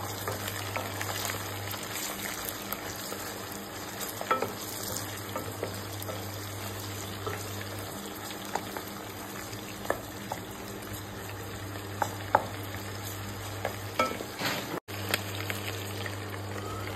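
Small shrimp with onions fry steadily in hot oil, a continuous low sizzle with scattered soft pops and crackles, no voices over it.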